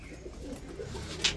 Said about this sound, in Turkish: güvercinler de çok oluyor arkadaşlar.